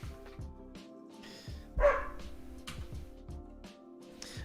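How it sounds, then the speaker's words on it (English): A dog barks a few times nearby, short yips and woofs spread across a few seconds, fairly faint, with a low steady hum in the background. "Dog shouting at me."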